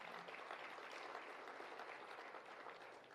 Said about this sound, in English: give yourselves a round of applause because it's quite applaudable